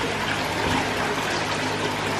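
Water pours steadily out of a pipe in an aquaponics nursery system, a constant, close, gushing trickle with no breaks and no talking.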